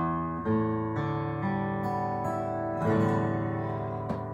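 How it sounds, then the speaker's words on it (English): An in-tune guitar strummed and picked in a short sequence of ringing chords, close and clear, each note sustaining as the next is played, with no talking. "a good tuned guitar is going to sound like this"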